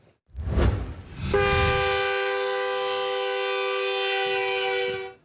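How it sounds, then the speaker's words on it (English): A loud, sustained train horn blares for several seconds along Utah's Wasatch Front, preceded by a brief low rumble, then cuts off abruptly. "Constant sound of train horns all along the Wasatch Front"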